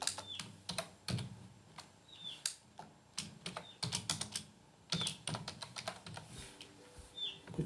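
Steady typing on a computer keyboard while writing HTML code, with irregular clusters of close, crisp key clicks and occasional heavier keystrokes over a quiet room with faint background noise.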